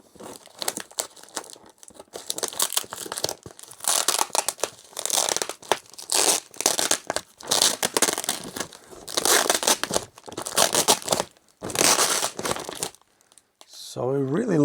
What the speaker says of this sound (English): So let's get this package somehow open.